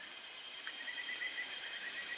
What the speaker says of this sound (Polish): Do snu kołyszą nas cykady, świerszcze, dzioborożce, gekony, żaby.